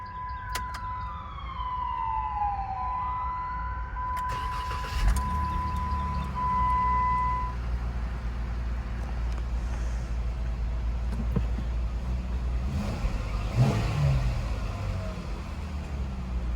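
A 2018 Jeep Wrangler Unlimited Sport JK with a soft top and automatic transmission starts after some electronic tones. Its engine catches with a burst, then idles in a steady, close low rumble.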